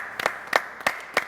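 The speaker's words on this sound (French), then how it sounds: "on peut applaudir." Sparse studio applause on a Senegalese TV talk show, just four or five soft, separate claps spaced evenly over about a second, fairly quiet.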